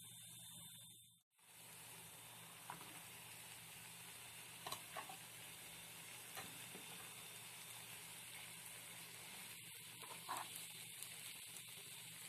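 Beef steaks for bisteces a la mexicana sizzle as they go into the hot pan, a loud continuous frying hiss that cuts out briefly early on, with scattered stirring clicks and pops over the steady sizzle.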